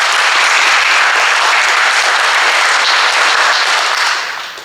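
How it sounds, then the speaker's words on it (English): School assembly audience giving student leaders a round of applause, dense steady clapping from a large crowd, loud and continuous before fading out at the end. "So can we give them a round of applause?"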